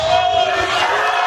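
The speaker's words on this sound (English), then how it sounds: "just listen to the crowd reaction there" Crowd at a televised political debate erupting in a loud, sustained roar of cheering and shouting, dense and continuous throughout with no clear individual voices.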